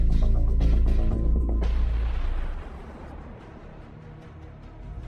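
A loud, deep explosion booms at once and rolls into a long rumbling decay that fades to a lower roar over several seconds.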